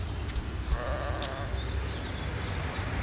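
Sheep bleating in the video game Wacki, a couple of short wavering bleats near the start amid steady low game ambience, with no talking.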